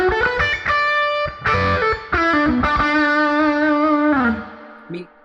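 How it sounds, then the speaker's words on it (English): A Maybach Marilyn electric guitar plays sustained distorted chords and notes through its bridge pickup, loud and close, then lets the last chord ring before it fades. "bridge pickup with some distortion"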